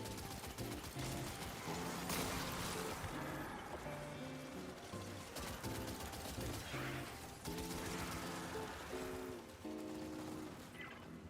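An auto rifle firing in Destiny, with rapid bursts of automatic gunfire layered over game music and effects, steady and fairly busy throughout.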